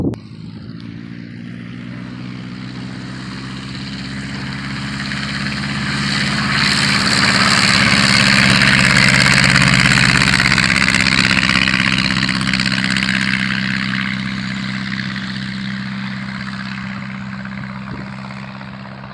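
A propeller airplane taxiing out at an airfield: its engine drones at idle, swells louder as it passes close by mid-clip, then fades gradually as it moves away, with no talking.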